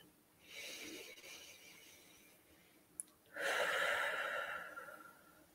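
Two slow breaths are heard up close and quiet: a soft inhale and then a longer, stronger breath that rises and fades. A small click falls between them, and no one speaks.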